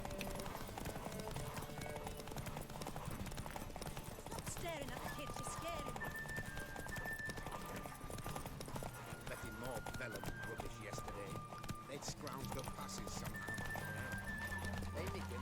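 A horse in the video game The Witcher 3 gallops with rapid, rhythmic hoofbeats and occasional neighs, running throughout beneath in-game music and talking voices.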